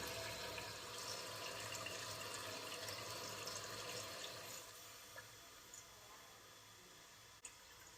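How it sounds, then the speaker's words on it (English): A toilet tank refills through a Fluidmaster fill valve with a steady rushing hiss of water that drops to a quieter trickle partway through, followed by a couple of faint clicks. "let's watch the tank fill and see if it shuts off properly"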